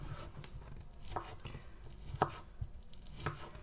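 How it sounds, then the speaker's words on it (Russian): Knife chopping potatoes on a cutting board while making vinegret salad, a few sparse, distinct thuds spaced irregularly over a quiet kitchen background. "Картошку рубаем"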